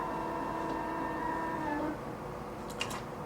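A computerized quilting machine travels to its start point before stitching, giving a steady mechanical whir and hum that stops partway, followed by a couple of faint clicks.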